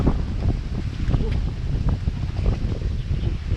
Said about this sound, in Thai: โอ้ลมมาพอดี